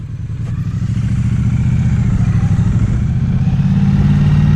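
A Kawasaki motorcycle and a Triumph Street Twin ride close by, their engines giving a loud, steady low rumble that pulses with firing rhythm and rises slightly in pitch as they accelerate.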